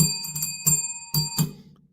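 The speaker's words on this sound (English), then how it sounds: "Yeah, ring that bell." A bell rung several times in quick strikes during a live stream celebrating a winner, bright ringing tones with sustained high overtones, loud and close, with a lower murmur of activity beneath.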